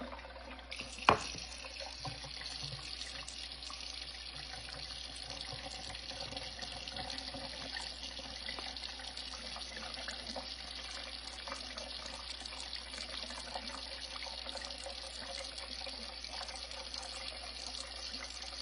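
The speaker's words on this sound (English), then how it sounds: "rinse it in cold water, pour out your buttermilk" Tap water runs steadily into a sink for a long stretch while homemade butter is rinsed in cold water. There is a brief knock near the start, then a constant, moderate splashing hiss with no talk.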